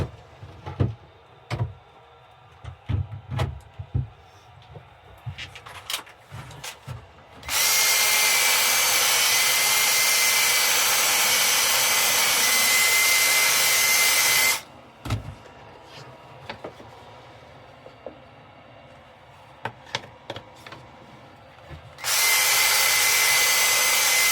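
A cordless power sander whines in two long, steady bursts while sanding a walnut bowl, separated and framed by scattered clicks and handling knocks.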